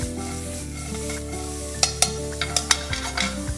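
Vegetables sizzle in a hot pan during a chicken sauté, a steady fry overlaid by several sharp clatters and stirring knocks, with music playing underneath.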